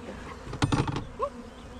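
Honey bees hum around a hive being moved in a garden, a steady close buzz with a brief louder swell of wingbeats in the middle.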